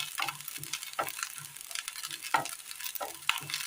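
Grated coconut frying in a pan for a pumpkin payasam, giving a steady soft sizzle broken by repeated scrapes and stirs of a spoon, close and fairly quiet with no talking.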